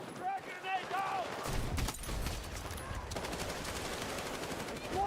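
A frag grenade explosion followed by sustained gunfire in a military shooter video game, a heavy burst giving way to a dense, steady rattle of shots, with voices shouting over it.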